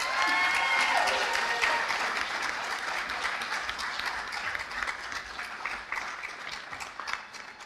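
Audience applause for physician assistant graduates at a white coat ceremony, a sustained crowd of clapping that starts loud with a few whistles and slowly tapers as it continues.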